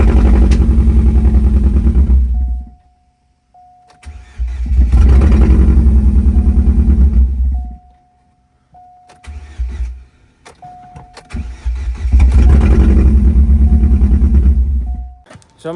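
A rebuilt supercharged 2.0 Ecotec engine in a Chevrolet Cobalt cranks and fires in three loud close-up bursts. Quiet gaps fall between them, each with a faint steady tone.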